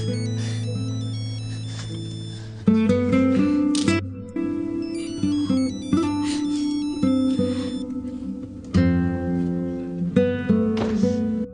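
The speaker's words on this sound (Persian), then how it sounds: "با تلفن جواب دهم، شاید جناب بشر زنگ میزند." A repeating electronic ringtone plays loudly in repeated melodic bursts, close and alone, with no talking over it.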